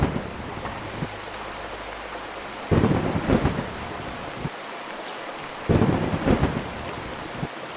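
Heavy rain pours steadily on surfaces in a village scene while thunder rumbles and cracks twice, loud and close, over the constant hiss of the downpour.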